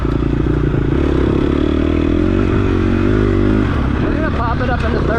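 A dirt bike engine revs hard and steady on an offroad track in Lometa, Texas, its pitch climbing then dropping as the rider shifts into third gear, with chattering mechanical clatter and a rising whine near the end.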